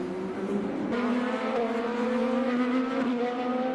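IndyCar race cars at the 2021 Grand Prix of St. Petersburg street circuit: a loud, sustained engine whine climbs in pitch, dips briefly as a gear shifts, then rises again, close and continuous with no talk.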